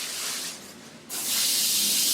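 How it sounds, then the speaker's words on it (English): A nail airbrush gun spraying airbrush cleaner into a bag: a close, breathy hiss that dips briefly, then surges back stronger and holds steady. "all I'm going to do is just get some airbrush cleaner into the well, and I'm going to spray it into my bag here."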